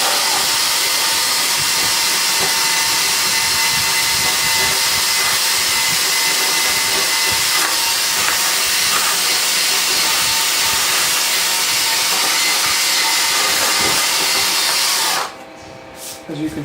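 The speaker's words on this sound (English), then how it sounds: "Put it onto a drill and go to town." Power drill spinning a brush against aluminum shop fan blades, a steady loud whirring scrub that runs continuously for about fifteen seconds before cutting off abruptly near the end.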